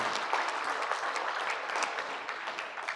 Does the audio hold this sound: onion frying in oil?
no